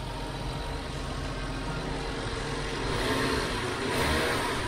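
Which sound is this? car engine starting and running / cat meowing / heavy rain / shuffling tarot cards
car engine starting and running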